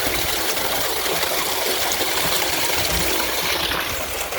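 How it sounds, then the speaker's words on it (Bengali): Water from a solar-powered irrigation pump gushes into a paddy field, a constant loud rushing flow close by, broadband and unbroken, with no voices. "আর এখানে আমাদের পানি এখন উঠছে"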